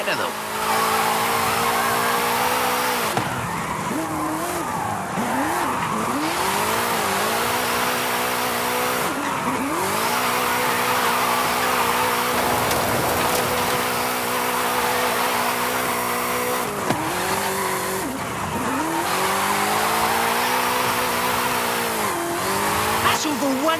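A car drifts in Forza Horizon 5, its engine droning and revving steadily with sustained tire squeal and skidding throughout, loud and continuous with pitch swoops as the throttle shifts.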